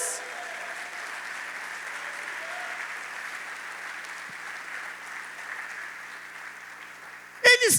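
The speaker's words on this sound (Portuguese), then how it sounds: "dê um aplauso a Jesus" Church congregation claps steadily in soft, distant applause that holds at an even level, ending with a sudden louder burst of noise close to the microphone.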